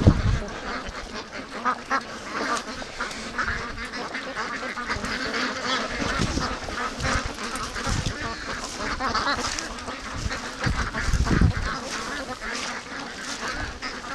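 Free-range ducks at a lake, quacking steadily in a loose flock, a continuous mid-level chorus of overlapping calls close by, with a louder cluster partway through and no talk over it.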